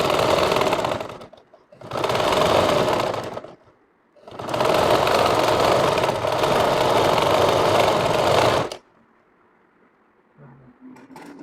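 A sewing machine stitches a collar onto a shirt in loud, steady motorised runs, three bursts of rapid whirring separated by short pauses before the machine stops and the room falls quiet.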